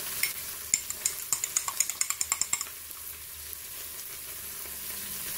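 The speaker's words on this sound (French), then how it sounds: "Je mélange pour après pouvoir le mettre dans le cookéo" A spoon stirs tomato sauce and mustard together in a bowl, giving about a dozen quick, evenly spaced clinks against the side before the scraping settles into a low, quiet hum.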